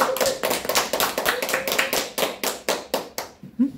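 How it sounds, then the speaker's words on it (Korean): Rapid, crisp handclaps from a small seminar audience ring out in a steady burst, then taper off toward the end. "나오실 때 큰 박수 부탁드립니다."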